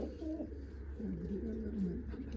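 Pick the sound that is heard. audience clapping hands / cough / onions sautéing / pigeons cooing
pigeons cooing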